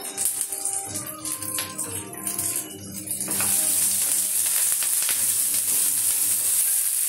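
Curry leaves hit hot tempering oil for coconut rice, bursting into a loud, bright crackle and sizzle after a few clinks, then holding as a dense, steady hiss close by.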